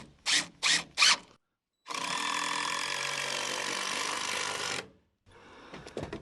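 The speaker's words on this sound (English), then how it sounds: "Drill has to think twice about" A power drill bores through stacked white oak deck boards coated in Rotella oil. Three short bursts come first, then one long, loud, strained run lasting about three seconds, ending in silence and a few faint clatters.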